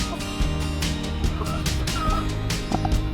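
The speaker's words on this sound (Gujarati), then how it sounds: "જો આ જો આ કુકડો છે" Fowl on a village farm, including roosters and a black rooster with white ears, give gobbling, clucking calls over a noisy outdoor background, with no talk heard.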